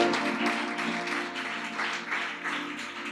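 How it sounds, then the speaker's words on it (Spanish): A congregation at an evening worship service gives a brief round of applause, moderately loud, over a sustained musical drone in the background. "Denle un aplauso al Rey de Reyes."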